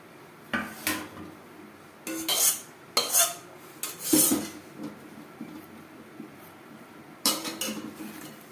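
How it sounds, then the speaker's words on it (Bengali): Spiced mashed potato filling with tomato, fried onion and chopped coriander is mixed by hand in a bowl, producing irregular squishing bursts and light knocks against the dish, close up with no talking. "আবারও বেশ ভালো করে মেখে নেব"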